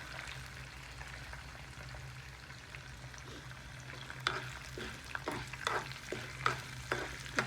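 Green chilies and chana dal fry in a pan with a steady sizzle, and a stirring spoon adds repeated scraping clatters that grow busier toward the end, close and with no talking.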